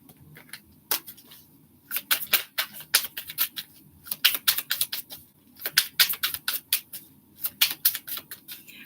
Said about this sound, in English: This is a smoother